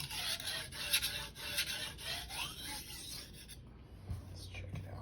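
A Shirogami 1 bunka knife is drawn across a Rika 5000 whetstone in a series of faint, gritty strokes, close and quiet, ending with a softer pause.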